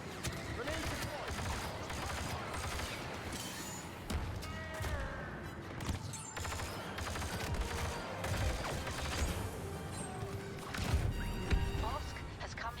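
Gunfire in a chaotic video game battle with repeated shots and bursts, clattering impacts and crashes layered under constant voices and game callouts throughout.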